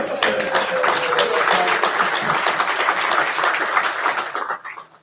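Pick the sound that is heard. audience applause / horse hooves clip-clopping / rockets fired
audience applause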